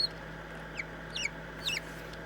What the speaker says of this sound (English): You hear him chirping